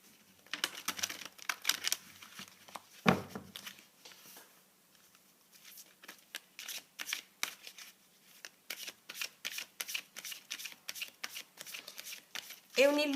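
A deck of dragon oracle cards is shuffled by hand, close and crisp, in bursts of rapid riffling and patting that start and stop across the stretch, with a sharp knock early on.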